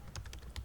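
A short burst of typing on a computer keyboard, several quick key presses entered into a search box while making a car parking game, close and fairly quiet with no talk.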